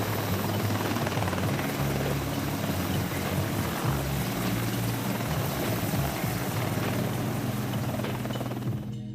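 An AH-64 Apache military helicopter in flight gives off a loud, continuous rotor thrum with a steady low throb and a broad roar, holding constant throughout and easing slightly at the very end.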